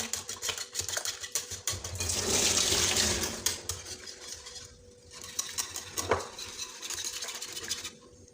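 Eggs are stirred into semolina halwa in a pot, with busy, close scraping and clinking of a spoon against metal, a wet hissing surge midway, and irregular stirring strokes throughout.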